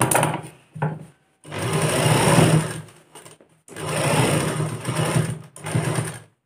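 A sewing machine stitches a girl's top in close, loud bursts: a short rattle, a brief blip, then two long runs of rapid clattering and a final short run, separated by silent pauses.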